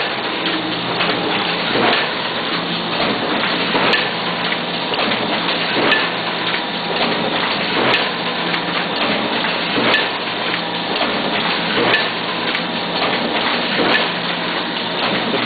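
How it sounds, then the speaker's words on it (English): A Horizon MC80 collator booklet maker runs steadily, stitching, folding and face-trimming sets in a dense, continuous mechanical rush with faint rhythmic clicks about every two seconds. "That's the set exiting the collator into the stitch section, being stapled. And that's the set entering the folder, folding."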